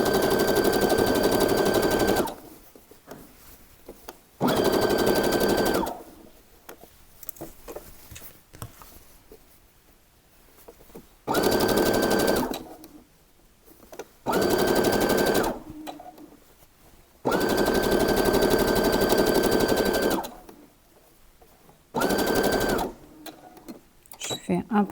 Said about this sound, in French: Et toujours à coudre à 1 cm de bord.